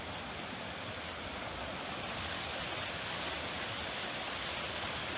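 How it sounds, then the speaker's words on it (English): Steady rushing water fills the whole stretch, a loud, close, unbroken wash of a flowing creek with no voices. "we have to cross this creek right here."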